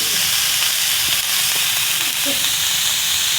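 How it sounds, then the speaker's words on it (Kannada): Paneer cubes frying in a pan give off a loud, steady, continuous sizzle with a faint hiss, heard close up and without talk. "ಇವನ್ನ ಸ್ವಲ್ಪ ಈಗ ಫ್ರೈ ಮಾಡ್ಕೊತೀನಿ"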